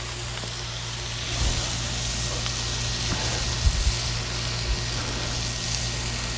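Buttered burger buns sizzle on a Blackstone griddle with a steady, fairly quiet crackling hiss, plus a few faint scrapes and a low background hum.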